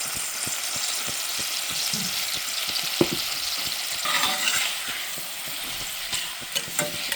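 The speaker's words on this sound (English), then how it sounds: "Give this a stir." Sliced yuca with salt being stirred in a pan, a steady sizzle with repeated scraping and clacking strokes of the utensil, close and fairly loud throughout.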